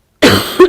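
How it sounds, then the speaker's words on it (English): A single close, sharp cough comes from a woman working on tiles in a craft workshop, with a second short burst right after it. "coughing again."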